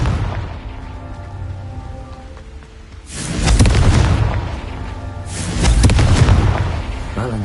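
Confringo blasting-spell explosions in a Harry Potter video game: two loud, booming blasts a couple of seconds apart, each with a rumbling, crackling tail, over steady ambient noise.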